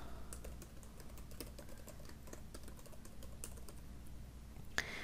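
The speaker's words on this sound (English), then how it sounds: "And then you're going to type in your email address." Quiet, steady clicking of keys on a computer keyboard while an email address is entered, a soft continuous patter with one sharper click near the end.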